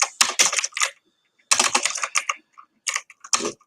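Bursts of fast, close key presses on a computer keyboard, with two dense runs of typing separated by a short pause and then a few scattered keystrokes, heard alone in a quiet room.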